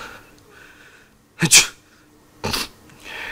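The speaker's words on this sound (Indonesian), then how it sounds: "Gue bersin lagi." Two sharp sneezes from a person feeling ill with a blocked nose, a loud burst followed a second later by a slightly weaker one, in a quiet indoor room with no talking.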